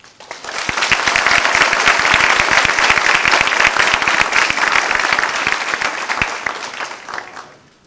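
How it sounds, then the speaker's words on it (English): A crowd at a dedication ceremony applauds the City of Doral Police Department Honor Guard, sustained loud clapping with sharp individual claps standing out, rising fast and tapering off near the end. "A round of applause for the City of Doral Police Department Honor Guard."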